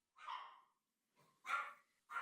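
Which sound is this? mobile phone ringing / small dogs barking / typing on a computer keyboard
small dogs barking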